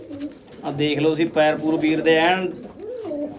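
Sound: pigeons cooing, pure Rajan pigeons

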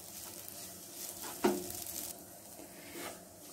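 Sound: stir-frying egg masala in a pan

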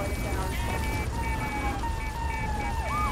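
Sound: police car sirens in video game GTA 3 Definitive Edition

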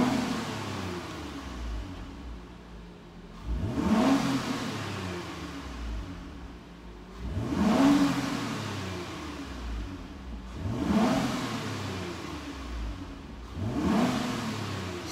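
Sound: car engine revving

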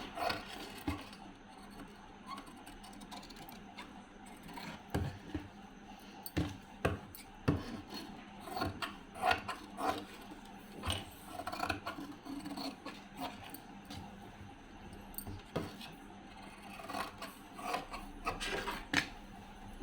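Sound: scissors cutting the neck of blouse fabric

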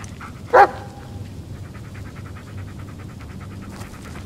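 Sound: dog barking in Blair Witch video game

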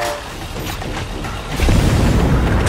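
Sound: bomb explosion in video game Borderlands: The Pre-Sequel

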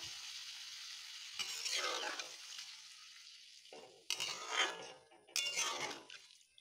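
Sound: stirring cauliflower fish curry in a pan

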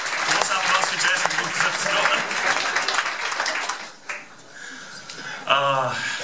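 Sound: audience applause at a comedy show

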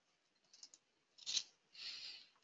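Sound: turning a paper page

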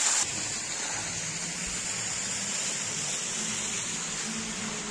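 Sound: mountain stream water flowing

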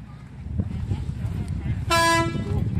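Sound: bus horn honking at bus museum

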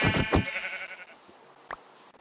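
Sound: sheep bleating in Minecraft video game

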